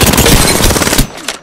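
Rapid automatic gunfire from Apex Legends, a dense rattling burst that runs loud and steady for about a second before cutting off, leaving a short faint tail.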